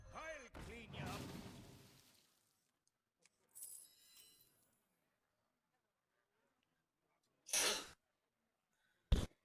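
A single loud human sneeze bursts out at the start in a quiet room, followed by softer scattered noises and long gaps of near silence.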